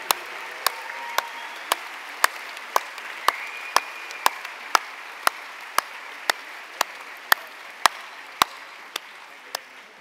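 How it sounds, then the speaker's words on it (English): Audience clapping at the closing session of the ICCA 2018 congress comes as sharp, evenly spaced claps in a slow steady rhythm, about two per second, over a faint room hum. "A final round of applause to this team, please."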